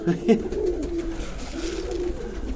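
Pigeons coo at a crowded pigeon market in Zgierz, their low, throaty calls rolling in close against a murmur of market background sound.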